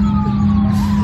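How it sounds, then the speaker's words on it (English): An emergency vehicle siren wails outdoors in the early morning around sunrise, a loud, steady, continuous tone that holds for the whole moment with no talking over it. "I love me some fresh sounds of some sirens in the morning"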